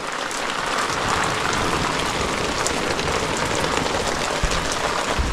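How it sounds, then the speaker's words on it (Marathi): Heavy rain pours down in a Konkan village, a dense, steady roar of drops drumming on surfaces throughout, with no voices. "पाऊस आत्ताच आलाय"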